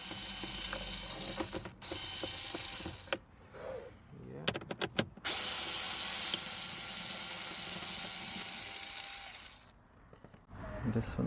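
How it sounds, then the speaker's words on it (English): Electric screwdriver removing 7mm hex screws from a cabin pollen filter cover on a Vauxhall Opel Astra J, heard as a ratcheting, whirring burst that stops and starts, with sharp clicks between runs and some talk nearby. "I'll try the electric screwdriver."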